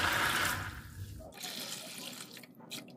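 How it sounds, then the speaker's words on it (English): Water poured over beans in a bowl before soaking, a close, steady splashing rush for about a second that gives way to softer trickling and dripping. "we'll add some water"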